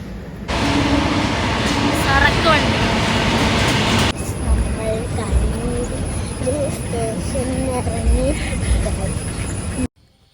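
A train at Kannur railway station rumbling and clattering loudly along the platform, wheels squealing at moments, then continuing as a quieter rolling rumble with high whine before cutting off abruptly.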